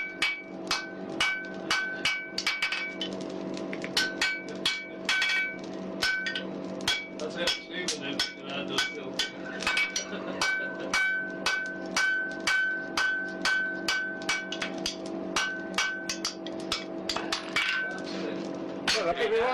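A small hammer strikes metal again and again in a workshop, sharp ringing taps in a quick uneven rhythm that carry on for many seconds, with a person talking in between.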